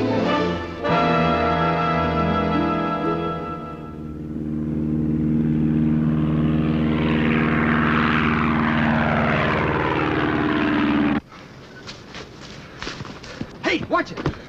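A propeller airplane's engine roars up from idle to a loud, rising drone as it takes off, then cuts abruptly to quieter clattering noises at the end.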